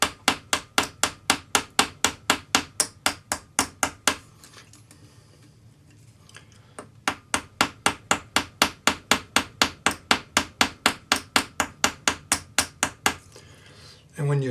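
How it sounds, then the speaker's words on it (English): Small hammer tapping a rivet on a metal pendant bail, a steady run of light, sharp, evenly spaced taps heard close up, pausing briefly midway before the rhythmic tapping resumes. "you'll have a pretty little hammered rivet that matches the hammer marks on the rest of it"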